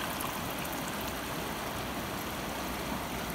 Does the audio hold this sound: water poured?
yes